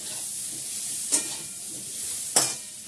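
Food sautéing in a small amount of oil, a soft continuous sizzle broken by two sharp spatula scrapes or clicks against the pan, close and fairly quiet with no talk.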